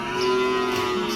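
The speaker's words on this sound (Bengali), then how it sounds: "গরু কীভাবে ডাকে," A cow at Gabtali cattle and goat market gives a single loud, close, sustained moo lasting about a second.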